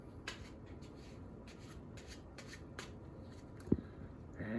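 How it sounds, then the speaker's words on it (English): A deck of playing cards gets a quick shuffle during a close-up card trick, producing a soft, brief flurry of riffling and rubbing bursts, close and quiet, with a small sharp tap near the end. "Give them a quick little shuffle."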